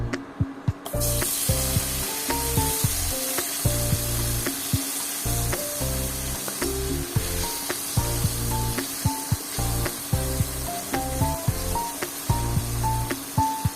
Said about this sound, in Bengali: হালকা করে ভেজে নেবো পনিরগুলোকে